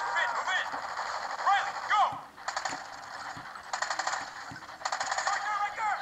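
Repeated short bursts of gunfire from a burst rifle in Call of Duty Ghosts, played over PS Vita remote play, come in quick clusters under continuous game sound and a talking voice.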